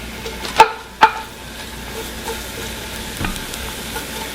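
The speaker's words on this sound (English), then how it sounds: "Hear that sizzle?" Food sizzles steadily in a hot pan while cooking chicken tortilla soup, with two sharp clanks of a utensil early on and a softer knock later.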